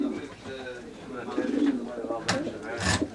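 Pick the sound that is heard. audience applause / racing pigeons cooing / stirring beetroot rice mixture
racing pigeons cooing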